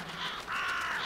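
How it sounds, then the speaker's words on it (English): Crows cawing in the game The Vanishing of Ethan Carter, two harsh drawn-out calls one after the other, moderately close and heard alone without talk. "Crows."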